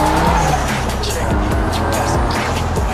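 Nissan Silvia S15 driven hard, its engine roaring loudly nearby while tires squeal and skid in repeated bursts, with voices faintly underneath.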